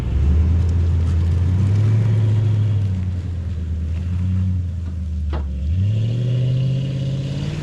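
A truck with its tires aired down roars loudly under throttle, the engine note rising and falling as it accelerates, with a sharp surge in pitch toward the end and no voices.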